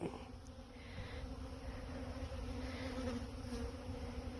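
Honeybees drone steadily around a newly installed nuc hive, with a soft continuous buzz of several insects close by and a few brief louder passes.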